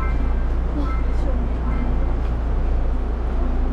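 Steady rumble and rolling hum inside a moving Seoul-area subway car on Line 2, riding in the last carriage, continuous and loud throughout with faint voices in the background.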